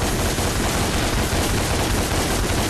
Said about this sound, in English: these are our guns, Ebony and Ivory